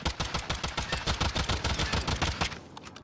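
Akimbo M19 pistols firing rapidly in Call of Duty, a fast steady stream of loud close shots in a tight rhythm that keeps going before cutting off near the end.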